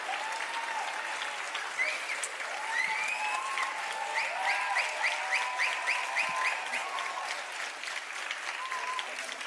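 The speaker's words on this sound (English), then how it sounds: "Here's where I need you all to really clap and cheer." An audience claps and cheers continuously at a dance performance, producing a steady, dense patter of hands with scattered whoops and shouts rising above it throughout.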